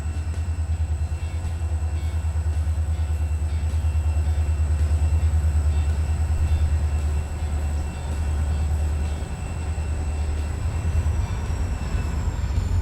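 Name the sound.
heavy freight train climbing a grade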